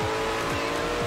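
A hypercar racing in Forza Horizon 4, its engine roaring at high revs with quick repeated gear-shift sweeps, loud and continuous, under light background talk.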